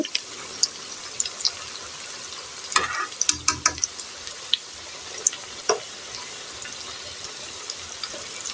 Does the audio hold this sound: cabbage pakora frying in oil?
yes